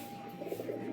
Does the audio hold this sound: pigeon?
yes